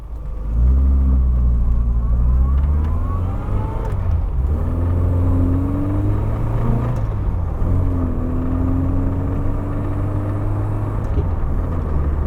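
An MG Metro with rack-and-pinion steering is driven along, its small engine revving up in rising sweeps, loud and close inside the cabin, with no speech.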